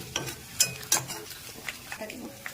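Minced garlic fries in a pan while a utensil stirs it, with sharp scraping and clinking strokes over a soft, low sizzle in a home kitchen.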